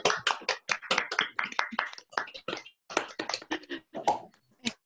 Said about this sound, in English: And now unmute and clap, everybody.